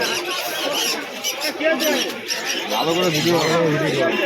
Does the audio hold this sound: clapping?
no